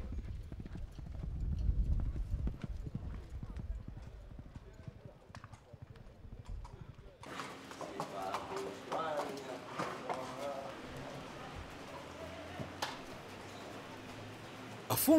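Racehorses are led out on a short walk after training, hooves clip-clopping steadily over roughly the first half; a denser, brighter stretch follows with voices talking nearby and a possible whinny.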